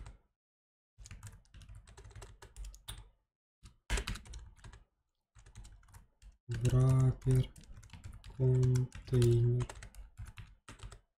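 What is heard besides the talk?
typing on a computer keyboard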